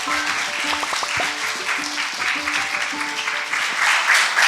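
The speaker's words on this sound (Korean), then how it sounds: "여러분 큰 박수로 맞아주세요." An audience at a science lecture claps steadily to welcome a speaker, a dense sustained wash of applause with faint tonal sounds running underneath.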